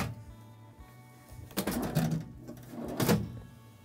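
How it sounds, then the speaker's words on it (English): Drawers being opened inside a 2025 Bowlus Rivet travel trailer, heard as two short sliding, rattling bursts a second or so apart over a quiet room background. "I'll now open a few of the drawers so you can see what that looks like."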